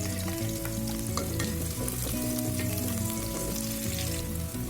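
Garlic sizzles steadily in a hot pan for beef caldereta, a dense, continuous crackle close up with faint stirring scrapes, no voices over it.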